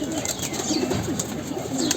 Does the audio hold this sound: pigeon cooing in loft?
yes